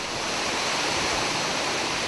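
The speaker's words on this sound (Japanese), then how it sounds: "紀伊半島の南端に近い那智、幅13メートル、高さ133メートルの大滝は霊場那智の原点にあり" The Nachi waterfall in Kumano, Japan, 133 meters high and 13 meters wide, roars as a dense, steady wash of falling water, loud and unbroken.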